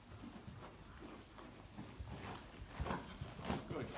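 Hooves of a horse cantering in an indoor riding arena thud in a quiet, uneven rhythm, soft and somewhat distant, with occasional stronger beats toward the end.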